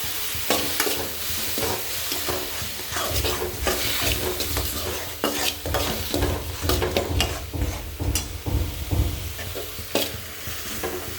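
Radish sautéing with salt and asafoetida for thokku, loud steady sizzling with repeated stirring and scraping of a spatula in the pan, close and continuous without speech.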